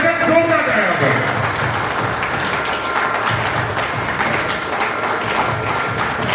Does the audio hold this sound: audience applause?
yes